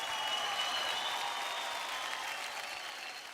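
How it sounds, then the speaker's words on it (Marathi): Sustained loud applause from a studio audience at a Marathi televised dance competition, a dense steady clatter of many hands that tapers slightly toward the end. "अरे भाई जोरदार टाळ्या होऊन जाऊ द्यात यार"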